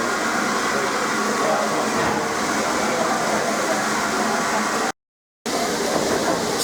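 Steady rumbling roar of a railtour train pulling away from Crewe station, continuous and fairly loud at close range, with a brief break in the sound near the end.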